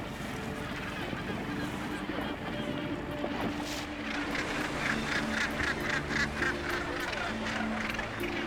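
A busy seabird colony gives off a continuous dense chorus of overlapping honking and squawking calls, loud and close all around, with a steady background wash.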